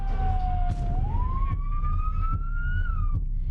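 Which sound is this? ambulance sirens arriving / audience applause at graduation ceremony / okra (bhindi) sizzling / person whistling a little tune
ambulance sirens arriving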